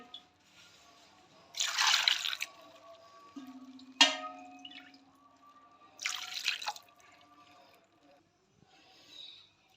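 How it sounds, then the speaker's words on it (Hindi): Creamy full-fat milk poured over peeled, chopped carrots for gajar halwa, in two distinct splashing pours a few seconds apart, close and fairly soft, with quiet gaps between. "अब हम इसमें 2 गरवी दूध की डालेंगे, मलाई वाला दूध डालेंगे 2 गरवी।"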